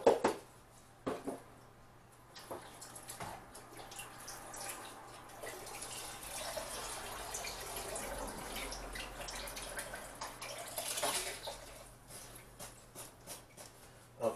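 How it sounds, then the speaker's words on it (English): Chicken broth poured liberally into a crock pot, a quiet, close splashing and trickling stream that swells in the middle and is framed by a few clinks and drips. "just pour all that into the crock pot"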